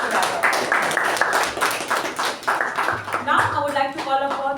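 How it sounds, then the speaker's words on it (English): Applause from a Toastmasters meeting audience, scattered claps building briefly while a voice talks over them. "Please give a huge round of applause for Toastmaster Apoorva and Toastmaster Raja"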